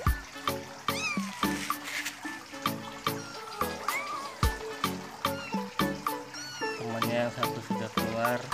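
A two-and-a-half-month-old Persian kitten meowing repeatedly in short high cries over steady trickling water and clicking, with a person talking nearby.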